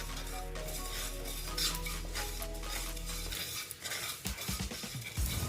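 Panch phoron spices frying in oil in a pan while cooking katoa data, with a steady close stir-and-sizzle and metal utensil scrapes that break into sharper clatter near the end.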